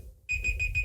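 A small timer goes off with a sharp electronic beeping, three or four quick repeated beeps, close and loud with no talk.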